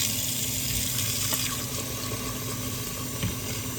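Kitchen tap water running into a sink to make soapy water, a steady close hiss and splash of filling liquid with no talking.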